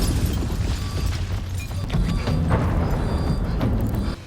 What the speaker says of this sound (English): Ford detonates the explosives, destroying himself, Waffner, and the lab full of horrors